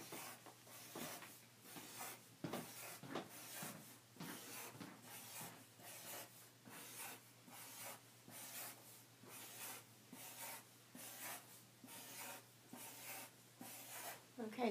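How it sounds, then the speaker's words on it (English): A pen draws group shapes on paper during a division lesson, giving steady repeated scratchy strokes with a regular rhythm, close and fairly quiet over a low steady hum, with no talking. "I'm just going to draw my groups."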